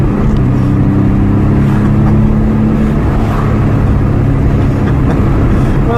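A 33-year-old car with a 255 km/h top speed drives along, its engine humming loud and steady throughout, with a low rumbling drone and no talking.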